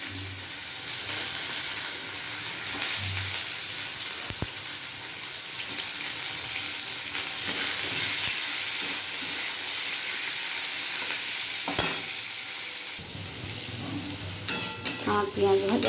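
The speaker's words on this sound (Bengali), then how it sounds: "আমার পেঁয়াজ ভাজাও হয়ে গেছে।" Chopped onions fry in a hot pan with a continuous close sizzle and hiss, broken by occasional stirring clatters and scrapes, with no voices.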